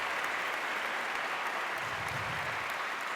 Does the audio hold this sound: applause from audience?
yes